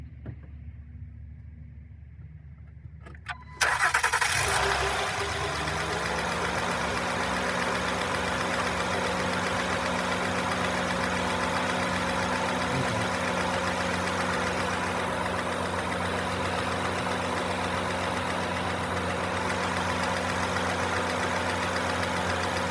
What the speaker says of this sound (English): So I'm going to fire it up.